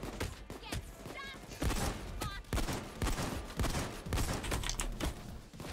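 A shotgun firing in a video game heist, repeated sharp blasts in quick bursts with short gaps, mid-level and fairly close, mixed with game noise.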